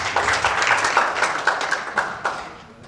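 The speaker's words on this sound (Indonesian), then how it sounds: "Tepuk tangan untuk Pak Ayub." Scattered clapping from an audience at a Christian prayer gathering in Surabaya, a loose patter of hands that fades toward the end.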